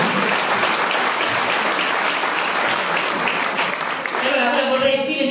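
Audience applause at an award ceremony in Canosa di Puglia, steady and full, fading near the end as a voice begins.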